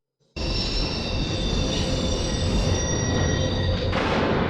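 A train rolls loudly along the tracks after an abrupt start, its wheels squealing with high steady tones over a heavy rumble.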